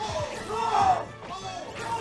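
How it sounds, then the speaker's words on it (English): Crowd at a Super Smash Bros. tournament match between Zero Suit Samus and Rosalina players, yelling and bellowing in a loud, sustained roar with rising swells, speech mixed in. "Crowd yelling roll."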